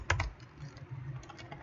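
Fast keystrokes on a computer keyboard while entering CSS code, a quick cluster of crisp clicks at the start followed by lighter, scattered taps, close and quiet, with no voices.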